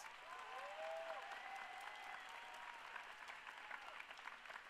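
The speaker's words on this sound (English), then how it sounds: "Students, please give them a big round of applause." Sustained audience applause fills a high school graduation ceremony at West Boca Raton Community High School, a steady wash of many hands clapping at moderate distance with faint crowd murmur, no speech over it.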